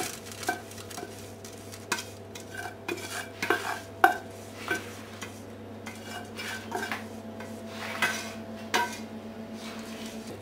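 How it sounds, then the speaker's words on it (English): Sticky flapjack mixture is tipped into a prepared baking tray and spread with a utensil, giving close scraping, stirring and metallic clinks against the tray in an uneven rhythm. "So now you put it in the pan, which you, the uh, baking tray, which you pre prepared earlier, and then just throw it in."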